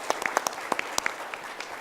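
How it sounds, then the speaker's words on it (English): An audience claps for a panel at a climate investment conference, with a short burst of scattered, fairly sparse hand claps up close. "Big round of applause for the panel."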